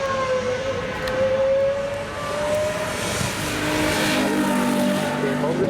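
A one-off naturally aspirated V12 supercar of more than 800 horsepower drives uphill at the Goodwood Festival of Speed, a high, steady engine tone that slowly shifts pitch, fairly distant beneath crowd ambience.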